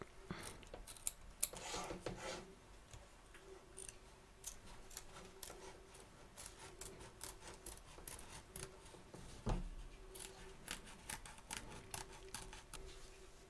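Scissors trim fabric around the edge of an embroidery hoop, a run of close, quiet snips and rubbing clicks repeating irregularly throughout.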